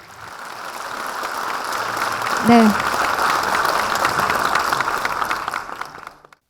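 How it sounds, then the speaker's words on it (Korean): Audience applause at a university ceremony marking the first anniversary of a Buddhist university's founding committee, after awards are presented; steady broadband clapping fills the hall, with a brief spoken word from the host partway through. "여러분 다시 한번 뜨거운 박수 보내주십시오."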